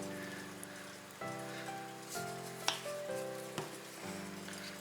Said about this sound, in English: just going to let it take its time and make a nice creamy little boil